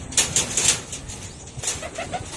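Racing pigeons flutter their wings in quick bursts and give a few soft coos, close up in a loft, brief and fairly quiet.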